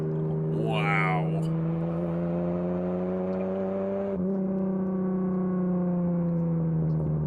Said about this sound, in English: It doesn't sound like a 6-cylinder, does it?